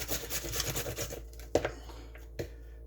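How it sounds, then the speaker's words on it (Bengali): A potato rasps against a metal grater in a kitchen while breakfast is made, rhythmic close scraping strokes for about a second and a half, then a few scattered knocks and scrapes. "এটা পরিষ্কার করে এখন এটা গ্রিট করতেছি"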